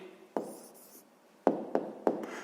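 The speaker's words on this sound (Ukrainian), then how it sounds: "Пишемо відповідь." Pen writing an answer by hand on paper for a fifth-grade math exercise, with three short bursts of scratchy strokes separated by quiet gaps, close and fairly soft, with no talking.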